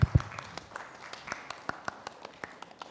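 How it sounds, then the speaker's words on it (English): Sparse clapping from a small audience after a round table session on assistive technology in Africa, a few distinct hand claps spaced out over a quiet room, with a loud bump at the start. "Let's give them a round of applause."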